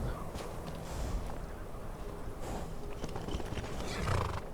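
A horse in the video game Skyrim gives a neigh over a busy, noisy game soundscape with hoof-like thuds and ambient rumble, fairly close but partly masked.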